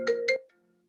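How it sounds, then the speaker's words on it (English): A phone rings for an incoming call during a talk about sports betting, heard as two short, clear electronic tone bursts followed by a fading tail, with no talk over it. "Sorry, phone call coming in."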